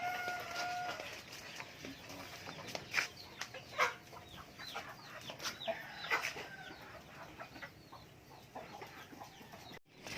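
Several heritage and native chickens cluck and chatter intermittently in a backyard, fairly close, with scattered calls over a quiet outdoor background.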